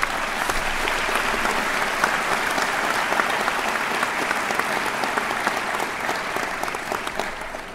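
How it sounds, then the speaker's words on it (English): Commencement ceremony audience applauds the Grantham University faculty, a broad, even wash of many hands clapping that holds steady throughout and fades slightly at the end. "I would like you to give the faculty for Grantham a round of applause also"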